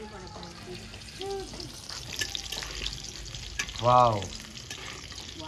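Meat cooking outdoors in the winter sun on a clay stove: a soft, continuous sizzle with occasional stirring, heard under a woman and a child chatting, with a brief exclaimed voice near the end.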